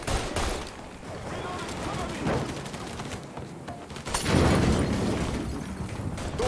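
Rapid gunfire from a shootout in the video game Mafia III sounds as dense, continuous bursts of shots with booming impacts that swell louder near the end, while voices shout over the battle.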